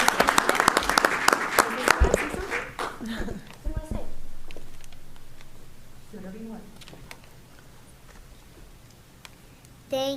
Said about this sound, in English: So let's all give Sophia a round of applause.